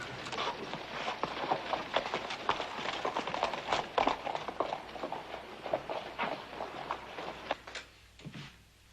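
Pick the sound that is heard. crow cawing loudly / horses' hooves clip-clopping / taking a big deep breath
horses' hooves clip-clopping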